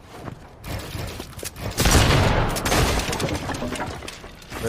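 Video game gunfire in Fortnite rings out as a dense burst of rapid shots, loud and close, with clattering mechanical bits around the volley.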